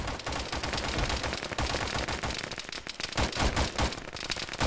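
Frag grenade blasts and heavy gunfire fill a combat video game firefight, with dense rapid shots and booming explosions packed together, loud and continuous throughout.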